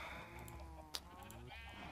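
Sheep in the Minecraft game bleat with a harmonic, wavering call that runs for most of the moment, with a short sharp click partway through. It is moderately loud and there is no talk over it.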